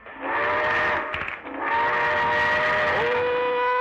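A loud train whistle sounds with a steady harmonic tone, dipping briefly, then resumes and holds, over engine rumble as the train begins moving.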